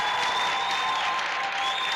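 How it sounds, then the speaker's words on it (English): A home crowd at a Wednesday night girls' varsity basketball game in Angola cheers and claps in a loud, continuous roar that stays steady for the whole moment, heard from within the gym. "We hear a big cheer from the Angola crowd."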